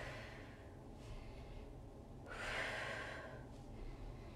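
A single heavy breath, drawn and released during a fitness workout, swells briefly midway over a steady low background hiss. It is faint and isolated, with no talking.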